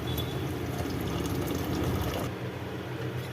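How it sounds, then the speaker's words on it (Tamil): Water pours steadily into a pot of soaked rice with green peas for pulao. It makes a dense, continuous splashing rush close by that eases slightly near the end, and no voices are heard. "இப்போ இதுக்கு தேவையான அளவு தண்ணியை நம்ம ஊற்றிக்கலாம்."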